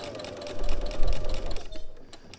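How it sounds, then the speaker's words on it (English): A sewing machine hums through the end of a stitch on a robe's fabric band, a close mechanical whir that swells and then cuts off into a few soft clicks. "I'm just going to go ahead and finish this stitch here"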